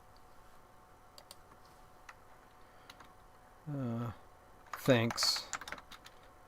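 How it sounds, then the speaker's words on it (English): Keys on an Apple IIGS computer keyboard tick in a quiet, steady run of soft clicks, with a voice speaking briefly over them. "if I typed on the right keyboard"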